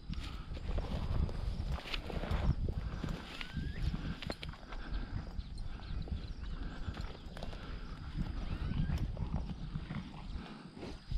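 Horses in a corral at a Bahia sertão cattle ranch clop and shuffle on the ground, with continuous hoofbeats, an occasional whinny and faint talk in the background.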